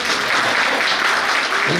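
Loud, dense applause from a large audience at an inaugural cultural program, a continuous wash of many hands clapping at once that fills the whole moment without pauses.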